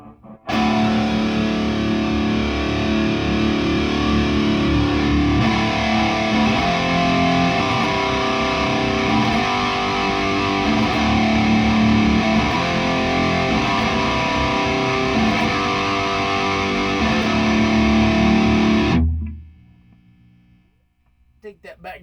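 Electric guitar chugs through a preamp with its gain distortion turned up, a thick, aggressive, sustained distorted roar that plays loud and steady before cutting off abruptly near the end.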